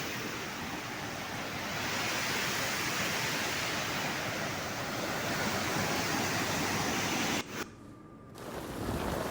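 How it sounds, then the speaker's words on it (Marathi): Dense, steady roar of water pouring over Bhushi dam in Lonavala, a continuous broadband rush that briefly dips near the end before resuming. "भुशी धरण ओव्हरफ्लो झालंय"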